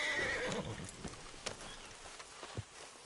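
A horse in a PS4 video game whinnies loudly at the start, followed by a few scattered hoof clops and soft thuds as the sound fades out.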